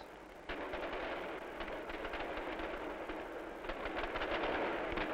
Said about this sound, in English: The Spanish bombardments of old have now been replaced by a brilliant display of fireworks.